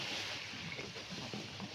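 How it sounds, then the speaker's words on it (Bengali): A speed boat churns water into waves at Maithon Dam, heard as a brief, steady rush of water and engine rumble mixed with wind buffeting the microphone, with no talking. "আমাদের বোটের দাদা গাড়ি আমাদের বোট চালিয়েছে, স্পিড বোট, পুরো ঢেউ উঠে গেছে এখানে"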